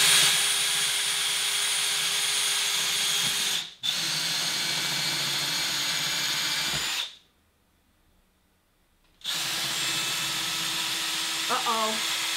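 A cordless drill that keeps slowing down whines steadily, stops briefly, whirs again, then cuts out for a couple of seconds before running once more, loud and close.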